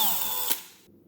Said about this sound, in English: So now I'll go ahead and drill it with my little bit here.